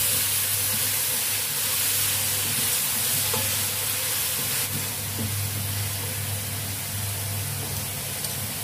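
A broccoli and mushroom stir-fry in Hong Kong-style oyster sauce hisses loudly and continuously in a hot pan while being stirred, with faint scraping under the dense sizzle.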